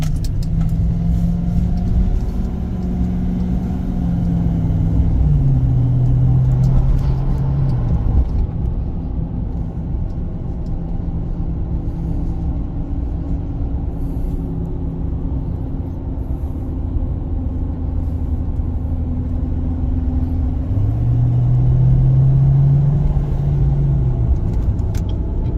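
A 2019 GMC Sierra 3500 HD Denali pickup drives steadily on a highway with a constant low engine rumble and road noise, shifting pitch a few times as it changes speed.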